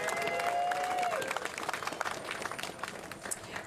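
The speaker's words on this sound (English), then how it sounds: "let's give everybody a round of applause for all their hard work" A crowd at an evening menorah lighting ceremony applauds briefly, a scattered patter of clapping that thins out quickly, with a faint sustained tone at the start.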